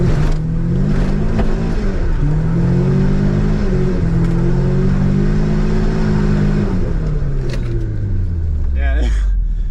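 Car with an open differential revving hard, a loud droning engine note that rises and falls while people talk over it throughout, ending in a falling pitch.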